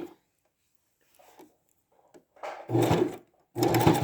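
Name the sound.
sewing machine sewing a back stitch on a fabric bin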